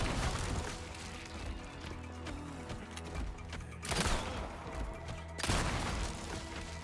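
Gunshots in Resident Evil 4: Separate Ways, a run of loud sharp reports over game sound, with two heavy blasts standing out near the end.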